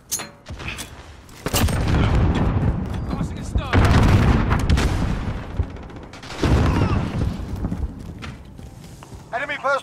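Frag and thermite grenades explode in Call of Duty Modern Warfare multiplayer, several loud, heavy blasts spaced a few seconds apart with rumbling tails, while voices talk over the action.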